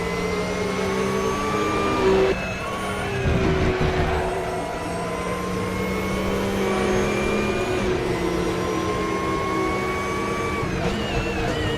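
A pack of race cars at the Slovakia Grand Prix streams toward the finish line, engines droning and whining loudly together with shifting pitches as cars pass, continuous throughout.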